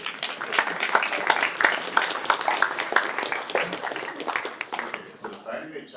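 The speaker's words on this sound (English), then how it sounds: "Big round of applause." A large crowd applauds at a hackathon closing ceremony, a dense, continuous wash of clapping that stays fairly even and then thins out near the end, with faint voices mixed in.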